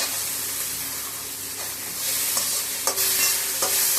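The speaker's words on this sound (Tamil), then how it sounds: "நல்லா வதக்கி கத்திரிக்காய் முருங்கைக்காய் பட்டாணி போட்டு" Eggplant, drumstick, green peas, tomato and onion sautéing in a pan, a constant loud sizzle and hiss with a few sharp utensil scrapes and knocks toward the end.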